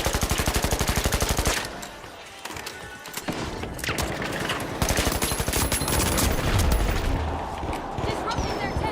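Bursts of suppressing gunfire in a first-person shooter, a rapid rhythmic rattle loud at the start, dropping away, then returning strongly alongside other game noise and someone talking.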